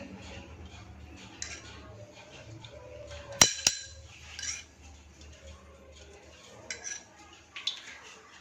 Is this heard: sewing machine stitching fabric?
no